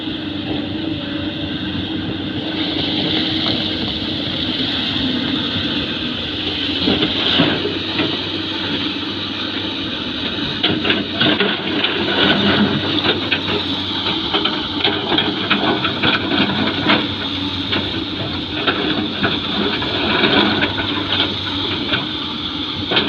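A model 7 engine runs steadily and loudly throughout, a continuous mechanical drone with a dense rattling texture that thickens partway through, no voices present.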